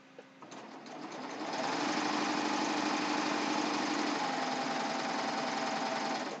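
A serger sews a short stitch along a ruffled pillowcase, starting with a few light clicks before settling into a loud, steady mechanical whir held close for several seconds, with no talking.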